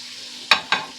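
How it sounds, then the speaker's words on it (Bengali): Potato rings fry in hot oil with a soft continuous sizzle, broken by two sharp, close utensil knocks or scrapes about a fifth of a second apart. "ভালো করে ভেজে নিতে হবে তো এটা আমার ভাজা হয়ে গেছে"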